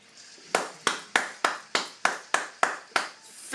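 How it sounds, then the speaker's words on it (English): A handful of people clap together in a slow, even rhythm, about nine sharp claps spaced roughly every third of a second, fairly close and alone with no talk, in tribute to a Philly fighter. "I want to definitely give Joey Moreno, you know, his round of applause."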